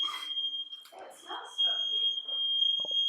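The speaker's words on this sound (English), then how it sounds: "apparently they've set off the smoke alarm" Shrill, steady smoke alarm tone sounding continuously at close range in a room where plumbers are working on a shower, with people talking over it throughout.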